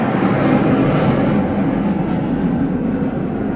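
An airplane flies overhead, a loud, steady low roar with a broad rumble that fills the space continuously and drowns out other sound.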